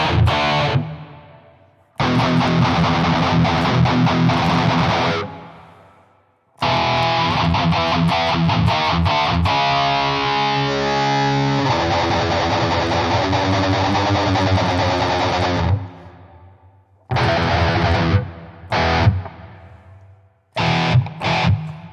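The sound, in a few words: distorted guitar through different cab IRs in AnyAmpIR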